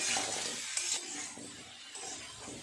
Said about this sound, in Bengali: ভালো করে নেড়ে চেড়ে সমস্ত সবজি মশলা একসাথে এইভাবে একটু কষিয়ে নিলাম